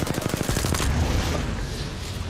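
Rapid automatic gunfire from a video game, a fast burst of loud, closely spaced shots at the start that runs into a dense, echoing rattle with no voices.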